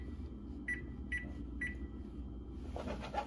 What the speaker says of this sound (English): we're going to set that timer for 1 minute